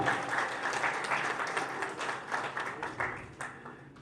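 Audience applause at a Central UP Chamber of Commerce New Year diary-release ceremony, a dense burst of many hands clapping together for about four seconds, moderately loud and steady before tapering off.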